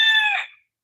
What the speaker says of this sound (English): I can see there are chickens.